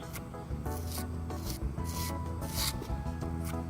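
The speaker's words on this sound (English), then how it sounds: "come behind it with just a putty knife to smooth it out" A putty knife scrapes and smooths wet plaster mix over a surface in steady, continuous rasping strokes, close and fairly loud, with no talking.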